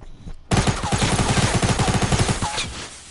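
Rapid spray-fire gunshots burst out in a video game, a loud, dense run of evenly spaced shots that starts abruptly and rattles on for nearly three seconds before tapering off.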